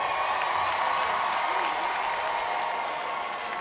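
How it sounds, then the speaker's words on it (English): A crowd at the Dillard High School class of 2021 graduation applauds in a steady, dense wash of clapping that stays even throughout, with faint cheering mixed in. "big round of applause"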